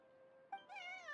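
A cat in a video game lets out a single clear meow, faint at first and then rising into a longer, louder drawn-out cry, with no talking.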